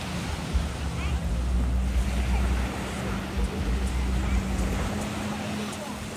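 Boat on the open sea at Phi Phi Island, Thailand: a steady engine drone under continuous wash of waves and wind buffeting, sustained and fairly close, with no clear talk.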